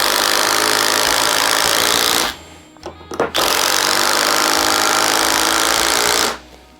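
Bosch Freak impact driver hammering two 3.5-inch deck screws into OSB: loud continuous rattling bursts, a brief pause with a few clicks mid-way, then another long sustained drive that cuts off near the end.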